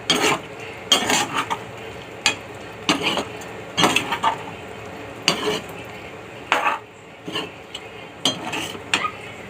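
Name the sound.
stirring chilli paneer in a pan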